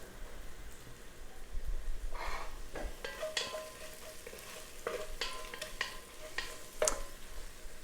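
Mustard seeds and onions fry gently in oil on low heat, with a quiet steady sizzle broken by several sharp crackles and pops, and occasional stirring scrapes.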